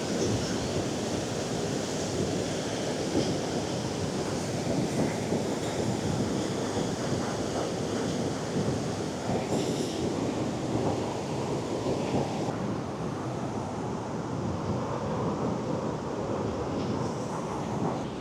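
Rough sea waves crash and splash up over harbor walls, throwing up sea mist, in a continuous loud roar of surf mixed with heavy wind buffeting, with no voices.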